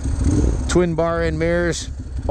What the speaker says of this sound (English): Love the sound of the dry clutch and the dual carbon fiber exhaust